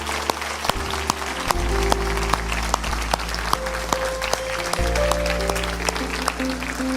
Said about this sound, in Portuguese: Nós queremos dar uma salva de palmas para vocês